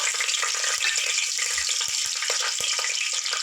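Cloves, cinnamon pieces and green chillies fry in hot oil with a constant loud, crackling sizzle, plus a few low thuds and taps from the pan, close up and without speech.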